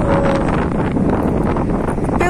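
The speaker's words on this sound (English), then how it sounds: "You may hear how windy it is" Strong wind gusting between tall buildings in the City of London financial district late at night, a steady loud roar buffeting the microphone throughout, with faint low rumbling beneath.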